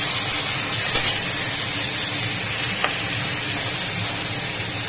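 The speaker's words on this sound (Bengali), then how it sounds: "এবার মাথাগুলো একটু ভেজে নেব।" Hilsa fish heads, rubbed with salt and turmeric, frying in hot oil, giving a steady close sizzle throughout with a few faint clinks.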